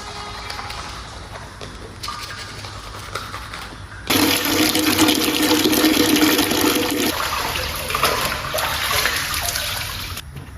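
Water runs steadily from a shower in a park restroom, growing suddenly louder partway through into a dense, close hiss that continues to the end.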